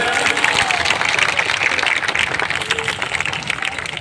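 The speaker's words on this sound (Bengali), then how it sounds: "সকলে একটু জোরে করতালি দিয়ে অভিনন্দন জানাই" A crowd at a Bengali political felicitation gathering applauds continuously, a dense, loud wash of clapping with a voice faintly underneath.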